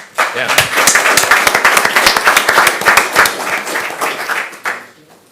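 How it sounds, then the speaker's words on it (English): A city council meeting audience claps for the police chief in a dense, steady round of applause lasting about five seconds, loud and close, fading out at the end. "I want to hear a round of applause for him"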